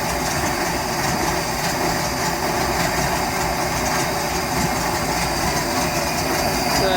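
A Volvo Penta 4.3 GI carbureted boat engine runs steadily and smoothly at idle, a constant broadband mechanical drone with a low rumble, loud and close throughout with no talk.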